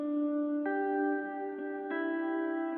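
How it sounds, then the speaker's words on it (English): A lone guitar counter melody from a lo-fi track plays a few long, smooth sustained notes that step from one pitch to the next, soft and mellow with no other instruments or voices. "So I added this guitar counter melody."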